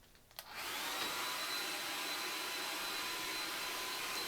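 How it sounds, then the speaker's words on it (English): A hair dryer switches on after a brief click and blows at a constant, steady whoosh for several seconds. "it takes much less time to use a hairdryer than to take the steamer out"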